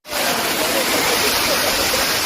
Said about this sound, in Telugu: వాటర్ అయితే చాలా హైట్ నుంచి అయితే పడుతుందన్నమాట